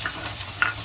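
Chopped onions fry in hot oil with peanuts and sliced green chillies for batata poha, giving a short, steady sizzle with a faint stirring scrape, close by.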